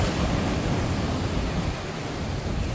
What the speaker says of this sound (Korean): 바람이 좀 불고 있고요 파도가 조금 높은 편입니다